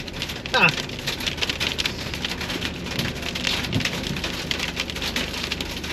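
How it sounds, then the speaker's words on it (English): Hail and rain pelting down outdoors near the port of Plymouth, a steady dense patter lasting throughout, with a brief sharper rattle early on and someone speaking over it. "And it's hailing."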